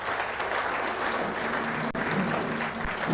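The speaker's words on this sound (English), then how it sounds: "Can Her Excellency Natalie Brown have a hearty round of applause" Hearty applause from the audience at a book launch, dense and continuous clapping throughout the short stretch with no talking over it.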